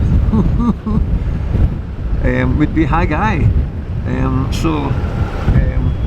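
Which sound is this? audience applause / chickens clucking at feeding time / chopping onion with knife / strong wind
strong wind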